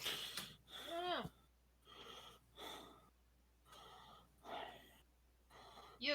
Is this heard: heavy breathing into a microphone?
yes